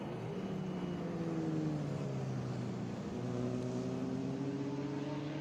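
Several race car engines, including a Corvette and a Mustang, roar loudly at an SVRA vintage race in New Jersey, their pitch sliding and overlapping as the cars pass close by, a steady high-revving drone throughout.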